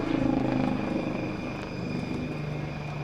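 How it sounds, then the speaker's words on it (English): A light utility helicopter flies stall turns at an airshow, its rotor and turbine drone steady and moderately distant, the pitch shifting slightly as it maneuvers, with no talk. "The light utility helicopter is now ready to perform a couple of stall turns in front of us."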